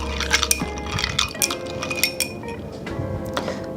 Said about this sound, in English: gonna use a spoon just to mix it all up